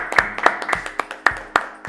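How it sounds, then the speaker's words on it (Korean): A small group claps in a newsroom-style studio, with about eight sharp, distinct hand claps in a loose, uneven rhythm, close and fairly clear, with no one talking. "박수 치시죠"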